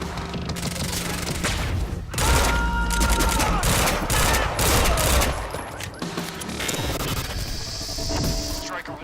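Dense gunfire in the action game Quantum Break, with rapid bursts and heavy impacts layered into a loud, continuous firefight that runs the whole stretch and is backed by booming hits.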